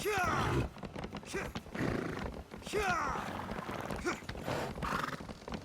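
A video game horse neighs loudly several times over rapid galloping hoofbeats while sprinting, the whinnies rising and falling in repeated bursts, close and prominent.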